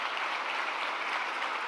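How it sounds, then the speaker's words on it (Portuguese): A crowd at a church program claps together in a steady, dense wash of applause that holds evenly throughout. "Eu queria que você desse uma salva de palmas para a base Canto Nobre"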